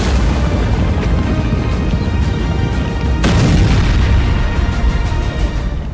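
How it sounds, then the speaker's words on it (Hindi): Heavy, continuous booming rumble of explosions in Gaza, loud and dense, with one sharper blast standing out midway. "धमाके भी ऐसे कि लगा सीज फायर टूट गया"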